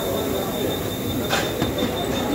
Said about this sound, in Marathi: ही खोपोली ट्रेन आहे